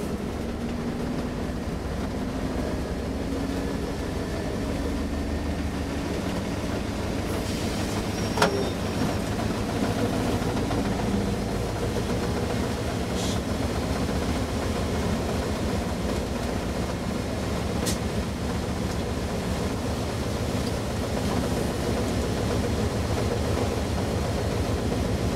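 A heavy Class 56 diesel locomotive engine roars steadily in the cab for a long stretch, a dense unbroken rumble with a few faint clicks and metallic squeaks.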